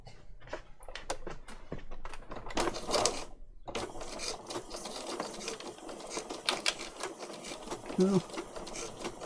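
A sewing machine stitches paper patchwork in short, rapid bursts of rattling needle strokes separated by pauses, close and clear, with brief handling noises in between.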